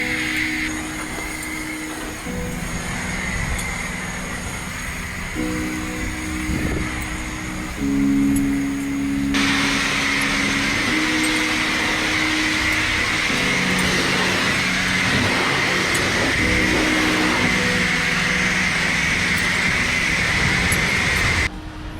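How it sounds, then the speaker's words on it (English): Water sprays in a steady, loud hiss over a 2020 Mustang GT Premium PP1 during a wash, running continuously with a droning pump tone underneath and growing stronger partway through. "now I'm gonna spray down the rest of the car"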